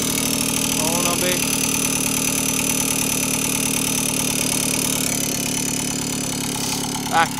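A Babetta 210 moped engine idles while still not warmed up, a close, loud, steady buzzing putter running throughout with a slight pitch rise near the end and someone speaking over it.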